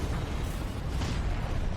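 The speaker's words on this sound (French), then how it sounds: "À ce moment-là, le mécanisme d'autodestruction de l'Achilles se déclenche." Film soundtrack of the spaceship Achilles self-destructing: a dense, roaring explosion rumble, loud and sustained throughout with no talk.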